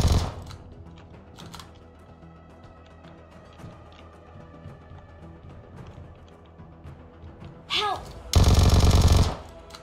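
Gunfire in the PUBG Mobile video game: scattered light clicks and shots, then a loud, sustained close burst of rapid automatic fire near the end, with players' voices faint in the background.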